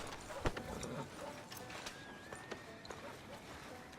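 Horse hooves clip-clop in Red Dead Redemption 2 as a rider slows outside a frontier town's sheriff's office, with a few irregular hoof knocks over a busy, low game ambience.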